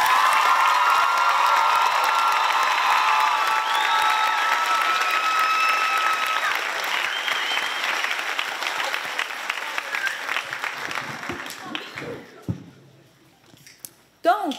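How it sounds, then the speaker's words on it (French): An audience at a school excellence evening applauds students' performances, with loud sustained clapping and some cheering and shouts that gradually thin out and fade to a few scattered claps. "J'aimerais ça qu'on les applaudisse très fort."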